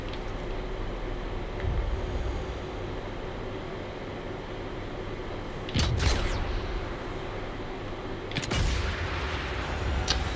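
Gunfire in the video game Sniper Elite 5: two sharp, loud rifle shots several seconds apart, each with a short echoing tail, over a steady low ambient rumble.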